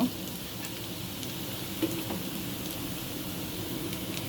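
Chopped onions frying in a pan for a fish and green chili dish, a continuous close sizzle with a couple of light utensil taps.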